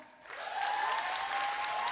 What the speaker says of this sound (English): People in their 30s, clap.